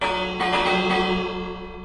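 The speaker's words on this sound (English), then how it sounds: "And we can place a bell on the wall." A bell is placed on a wall in Minecraft, giving a single clear struck bell tone with a bright ringing attack that decays slowly over nearly two seconds, heard alone.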